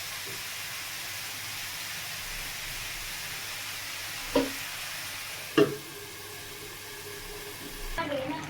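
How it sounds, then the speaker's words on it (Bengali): Balls of chopped potato and chilli fry in hot oil with a soft, continuous sizzle. A couple of sharp clinks and pops stand out near the pan, and a faint voice is barely present. "বন্ধুরা, মেয়ে যে বলগুলি বানিয়ে দিয়েছিল ভেজে নিলাম।"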